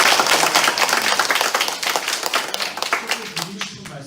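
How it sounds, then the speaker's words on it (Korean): A lecture audience claps for a professor at an architecture and real-estate colloquium, close, loud, brisk clapping from a modest crowd that thins and fades out over the last second. "장길구 동양미래대학교 교수님께 다시 한번 박수 한번 어때요?"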